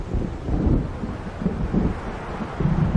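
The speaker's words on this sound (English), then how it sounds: "It seems there's a storm coming." In the Alan Wake video game, thunder from an approaching storm rumbles low and heavy in repeated rolling swells, mixed with gusting wind, with no voices.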